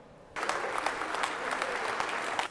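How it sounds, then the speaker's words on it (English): A warm round of applause for Miramichi area Special Olympians starts abruptly after a brief quiet moment, then holds as a steady, full crowd clapping until the end. "Greeted with a warm round of applause, Miramichi area Special Olympians came to hear news"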